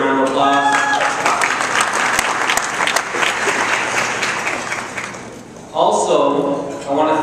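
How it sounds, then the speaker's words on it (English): An event crowd gives a round of applause, with dense clapping that fades out after a few seconds before voices and chatter come back in. "You guys deserve a round of applause"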